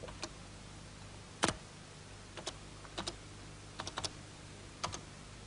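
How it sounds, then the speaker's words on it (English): Computer keys are typed on a 1983 home computer keyboard, a few sparse, quiet clicks in small irregular bursts with a faint hum behind. "I type R, fall."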